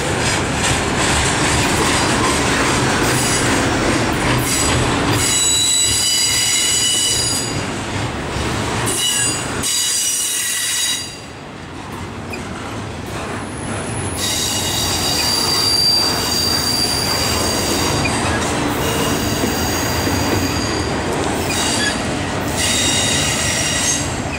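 A Norfolk Southern freight train led by two GP60 locomotives rolls past at Mableton, loud and close, with rail wheels squealing and rhythmic clickety-clack of cars continuing throughout.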